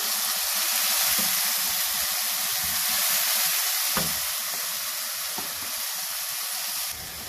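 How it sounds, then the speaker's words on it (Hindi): Boiled chana dal and its cooking water poured into a hot pan, giving a loud, steady hiss of sizzling and steam that fades slightly toward the end, with one brief clink of a utensil midway. "ये जो दाल मैंने बॉईल की है ये मैं इसमें डालने लगी हूँ।"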